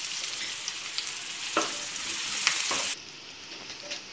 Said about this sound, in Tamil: வெங்காயம் வதக்க கொஞ்சம் உப்பு போட்டுக்கலாம்.